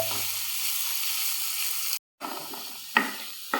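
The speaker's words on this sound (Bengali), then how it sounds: "এটা হাই ফ্লেমে দিয়ে কিন্তু মোটামুটি 1 মিনিট ভাজলেই হয়ে যাবে।" Cabbage and capsicum frying in a pan over high flame, a steady close sizzle that cuts out briefly, then resumes with a couple of sharp stirring clatters.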